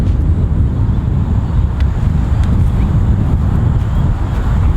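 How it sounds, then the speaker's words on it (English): Strong wind sweeps across an open golf course, a loud, continuous low roar buffeting the microphone with no breaks and no voices. "Really strong left to right wind."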